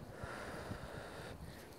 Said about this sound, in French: Ah putain de vent quoi